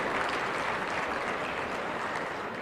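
Applause from a student audience at a JNU Jaipur university event, a dense steady patter of many hands clapping at once, filling the space evenly throughout with no gaps.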